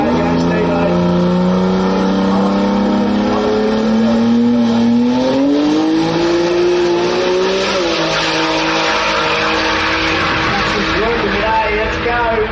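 A drag racing car, with an HG wagon mentioned among the entrants, makes a full pass down the strip at a Brisbane jamboree finals meet, its loud engine rising steadily in pitch for several seconds before easing off, with people talking over it.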